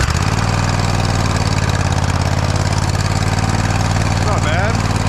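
Engine of a Hustler Raptor SD zero-turn mower running steadily after a throttle cable repair, with a loud, close, continuous rumble and no change in pitch.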